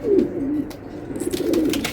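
A racing pigeon coos in soft, repeated throaty rolls close by, with a few faint chirps and light rustling in between and no talking.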